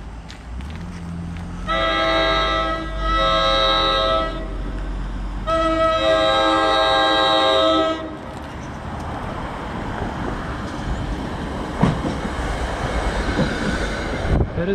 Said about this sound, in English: there's a southbound train coming into the station